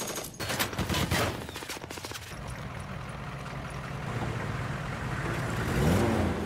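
Rapid bursts of automatic gunfire crackle loudly in the opening seconds of an action scene from the film Operation Red Sea, then give way to a rumbling, roaring wash of rocket and vehicle noise that swells toward the end.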